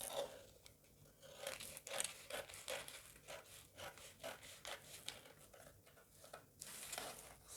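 Scissors snip and rustle through a paper corset pattern piece, steady close cutting strokes with crinkling paper, quiet and continuous without speech.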